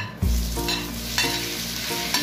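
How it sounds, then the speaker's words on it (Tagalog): Vegetables sauté in hot cooking oil in a frying pan, a close, steady sizzle with a few sharp bursts as they are stirred and tossed, no voices. "naka-ready na po ang aking frying pan na may cooking oil. And then, susutay ko lang muna ang mga vegetable niya"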